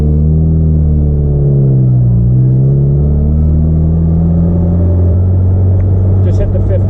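A classic right-hand-drive Austin Mini's engine drones loudly from inside the car while driving, its pitch dipping and climbing as gears change, a steady close rumble with a faint click near the end.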